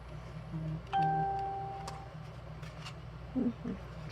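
A phone notification chime: a single clear electronic tone with a harmonic, sounding once at moderate level over a quiet indoor background with faint rustling.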